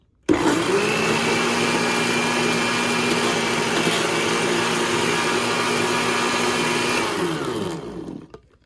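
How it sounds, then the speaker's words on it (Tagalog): An electric blender runs steadily while blending a banana and raspberry smoothie, producing a loud, continuous whirring motor drone. It starts abruptly and holds constant for about seven seconds, then winds down at the end. "Haluin lang natin. Ayan, oh. Tapos i-blend lang."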